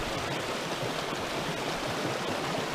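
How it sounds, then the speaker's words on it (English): A babbling brook flows steadily along a hiking trail between Placid and Long Lake, a constant close rush of broadband water noise with no talk over it. "I don't know if you can hear me over this babbling brook"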